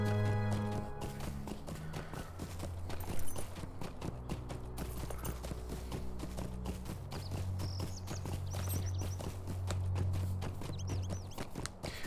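Horse hooves clip-clop at a steady riding pace in the video game Lord of the Rings Online, continuous and close, over a bed of game music.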